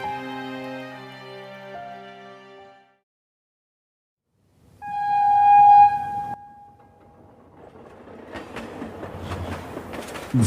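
A train sound effect in a Bengali ghost story reading: a sustained horn blast sounds after a brief silence, then a rising rumble and clatter of a passing train builds loudly to the end, with soft musical tones heard earlier.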